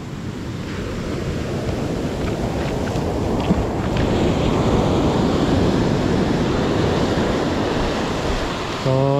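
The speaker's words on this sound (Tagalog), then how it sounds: "Lakas ng alon." Strong ocean waves surging and crashing continuously near a fishing platform, a loud, broad roar with wind buffeting the microphone, ending in a brief mechanical beeping.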